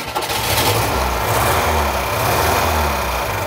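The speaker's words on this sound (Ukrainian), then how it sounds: "Ну що, заводимо ключа." A homemade snow all-terrain vehicle's engine, started with a key and running in a snowy outdoor setting: a loud, steady mid-pitched engine drone close by, with a constant rumble and no talking.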